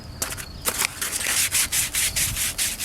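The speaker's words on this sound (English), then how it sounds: "Get the sandpaper." Sandpaper rubbed back and forth across a cut piece of wood for a rink rake, close and loud, in steady repeated strokes with short gaps and no talking.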